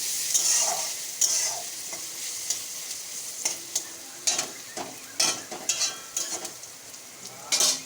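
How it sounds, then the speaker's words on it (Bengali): Chopped green chillies fry with onions in a pan, a continuous sizzle broken by repeated scraping strokes of a stirring spoon, close and steady throughout. "কাঁচা লঙ্কাটাও পেঁয়াজের সঙ্গে ভাজা হয়ে যাবে"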